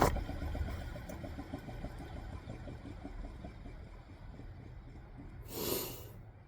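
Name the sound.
old car alternator being spun by hand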